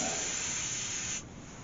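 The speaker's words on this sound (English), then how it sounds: "Spray that with a bit of sealant." A steady, loud hiss of an aerosol can spraying sealant onto a wood-turned bowl for just over a second, then cutting off to quieter background noise.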